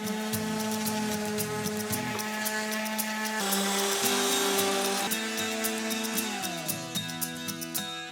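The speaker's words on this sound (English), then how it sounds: "Let's get you sanding this." A power sander whirs steadily against wood with a shifting pitch, close and continuous, punctuated by small rattles and scrapes.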